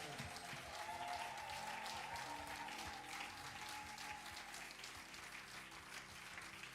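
Steady applause from a church congregation, dense clapping that continues evenly throughout at a moderate, slightly distant level.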